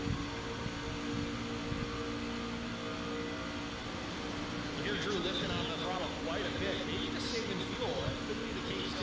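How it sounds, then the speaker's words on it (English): A race car engine drones steadily at Talladega Superspeedway as the driver lifts off the throttle, with other engines whirring around it, under continuous commentary. "You hear Drew lifting on the throttle"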